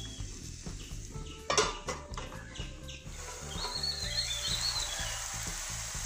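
A lid clanks down onto a pot of onions being sautéed, one sharp metallic knock amid light utensil clatter, then a muffled, steady sizzle continues under the cover.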